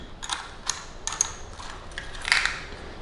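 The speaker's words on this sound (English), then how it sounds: "from here, we're just going to take these off" Ratchet clicking in short bursts as it loosens 13 or 14 millimeter bolts holding the batteries of a Jazzy Evo 614 HD power chair, the bursts separated by brief pauses, close and moderately loud with no voices.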